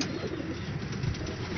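Pigeons in a Lahore loft coo in a continuous, dense murmur of low throaty calls, close and steady with no break.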